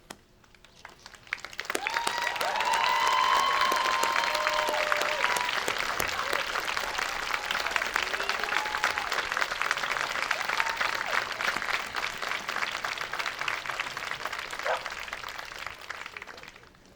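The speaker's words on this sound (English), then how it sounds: "Please stand and join me in applauding and thanking your teachers." Sustained applause from a large audience at a school graduation ceremony swells quickly and holds steady for many seconds, with cheers rising above the clapping before it fades.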